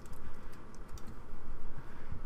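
Fast typing on a computer keyboard at a desk, with a steady clatter of keystrokes heard close and continuous throughout and no voices.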